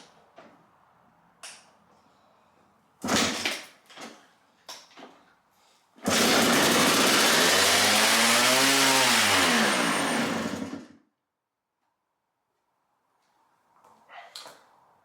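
A 1997 Suzuki RM250 two-stroke dirt bike, revived after neglect, fires up on fresh fuel and revs loudly and raggedly for about five seconds before cutting out, with a few knocks and brief voices before and after.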